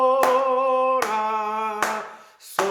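Single hand claps mark each beat, four sharp claps spaced under a sustained sung or keyboard melody in a Korean singing class practicing rhythm.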